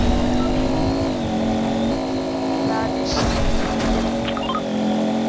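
Car engine in a Star Wars-themed Fortnite match, a wrecked vehicle, droning steadily with slight rises in revs and a brief burst of clatter midway, continuous and fairly close.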